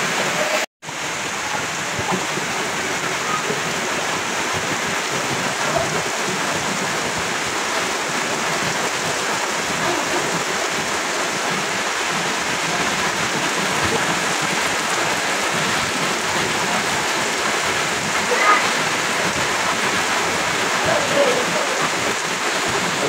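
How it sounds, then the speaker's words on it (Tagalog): Heavy rain pours down in a dense, steady hiss, loud and unbroken throughout. "ang lakas ng ulan dito sa atin"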